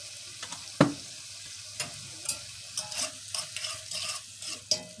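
Taco pie meat filling cooks in a pan on lowered heat, with a steady sizzle broken by sharp scraping clicks and stirring knocks at irregular intervals, close up with no voices.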